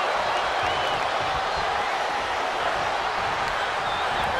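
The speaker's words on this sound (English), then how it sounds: "The crowd are into this" Wrestling arena crowd at a televised SmackDown event, a steady, dense roar of cheering and crowd noise that stays loud and continuous throughout with no break.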